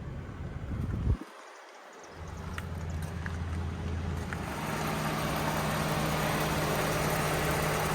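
A 2012 Toyota Avalon Limited V6 with 117k miles idles smoothly, holding a steady low hum with some wind noise after a brief dropout near the start.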